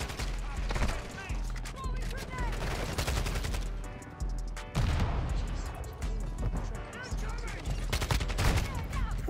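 Dense automatic gunfire from the Kastov 74u in Modern Warfare 2, loud rapid bursts with explosions and crashes mixed in, nearly continuous, with a voice talking over it.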